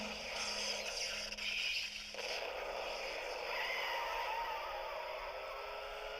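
A collectible toy motorbike's electronic engine sound effect, set off by pressing its gas pedal, gives a steady, noisy, buzzing whir with a faint rising tone, fairly loud and continuous throughout.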